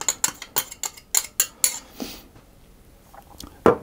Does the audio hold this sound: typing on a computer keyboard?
no